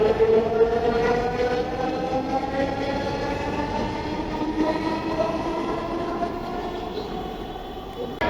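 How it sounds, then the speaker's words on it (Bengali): A metro rail train pulls out of the station with a loud steady rumble and rising motor whine that carry through the whole stretch, and faint voices sit under the noise. "ট্রেনটা চলে গেল, ছেড়ে দিছে আবার।"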